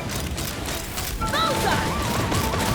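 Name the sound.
gunfire in Genshin Impact video game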